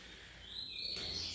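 A double-collared seedeater (coleiro) sings while moulting, a thin high whistled phrase rising and sustained, fairly faint and distant over a quiet background.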